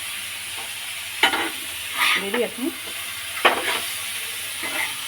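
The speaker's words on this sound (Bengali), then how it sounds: "সাদা তেল আর মাখন আর একটু লঙ্কার গুঁড়ো দিয়েছে, দিয়ে এই যে মাংসগুলো ভাজা হচ্ছে" Pieces of meat fry in white oil and butter with chilli powder, giving a steady sizzle broken by a few sharp stirring scrapes and clatters, while someone speaks briefly nearby.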